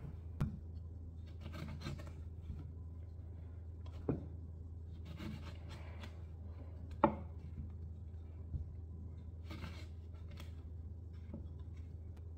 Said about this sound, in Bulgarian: Нарязвам няколко лимона.